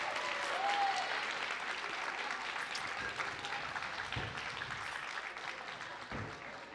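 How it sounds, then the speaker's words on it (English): Sustained applause from a large crowd at a live Mabinogi community event fills the room, steady and loud, gradually tapering off with a few lingering claps. "let's have one more round of applause"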